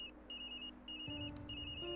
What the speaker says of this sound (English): Sorry, that's my phone once again.